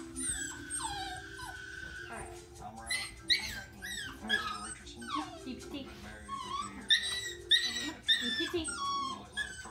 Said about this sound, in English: please ignore the dog whining in the background